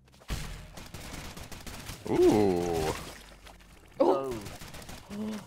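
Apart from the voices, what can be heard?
gunfire of bullets in the video game Rounds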